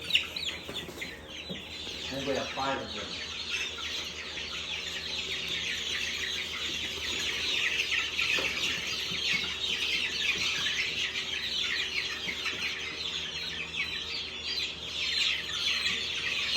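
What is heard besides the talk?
chickens clucking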